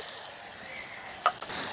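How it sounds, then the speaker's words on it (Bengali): Turmeric powder and salt fry in hot oil for a village-style katla fish curry, giving a continuous close sizzle with a brief stirring scrape. "একটু ভাজা ভাজা করে নেব সামান্য একটু ভাজতে হবে না হলে হলুদ গুঁড়ো পড়ে যাবে"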